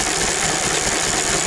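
An older engine with a pre-electronic distributor ignition runs steadily nearby, a loud, even mechanical idle with a faint knocking texture and no speech.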